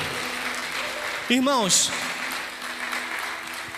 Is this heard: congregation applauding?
yes